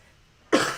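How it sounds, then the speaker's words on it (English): A single sharp cough breaks a near-silent background, loud and close. "Pardon my cough."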